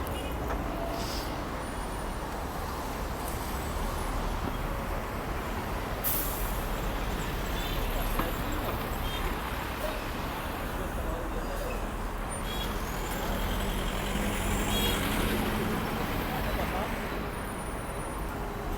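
Dense, chaotic city road traffic with trucks and buses fills the scene with a constant roar of engines, broken by brief horn-like and air-brake sounds, and some talking underneath.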